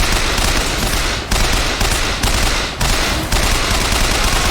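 Gunfire in the video game Bioshock Infinite as a loud, dense, continuous barrage of shots. The volume dips briefly a few times, and no one speaks.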